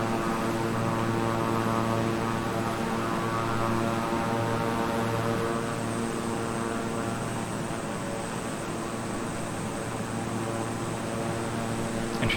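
Twin propeller engines of a King Air 350i throttled back in Microsoft Flight Simulator produce a steady, loud cabin drone with a constant humming tone and airy rush, unbroken for the whole stretch.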